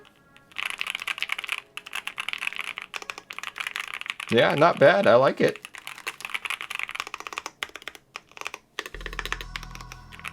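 Rapid clacking keystrokes on a Vega 65 mechanical keyboard with Gateron Black Ink switches, close and fairly loud in steady bursts, with someone briefly speaking in the middle.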